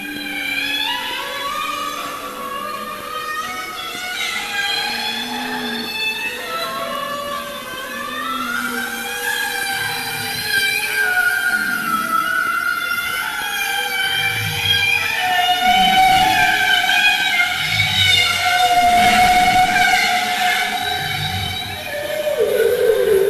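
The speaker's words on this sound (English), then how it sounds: "And here are some examples of bowhead whale calls." Bowhead whales call underwater in polar seas, a long sequence of warbling, rising and falling tonal moans and whistles, some overlapping, with lower grunting pulses midway, continuous and fairly loud throughout.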